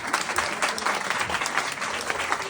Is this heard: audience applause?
yes